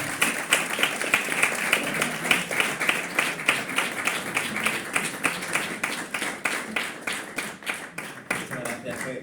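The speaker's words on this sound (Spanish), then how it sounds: "Y un aplauso, un aplauso." A small group claps in a steady, rhythmic burst of applause lasting several seconds, fairly close and moderately loud.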